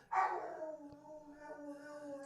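Pluto, a year-and-a-half-old female dog, barking and then howling from another room behind a door, one sharp bark sliding into a long wavering howl, muffled and moderately distant.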